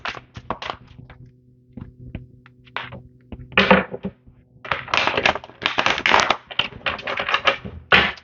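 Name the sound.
handling tarot cards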